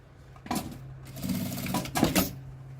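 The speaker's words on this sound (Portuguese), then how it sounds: "primeiro eu passo uma costurinha aqui pra segurar essa alça" A sewing machine stitches across a fabric strap in two or three short close bursts with brief pauses between them. The steady motor hum sits under a rapid needle clatter, fairly quiet overall, with no talking.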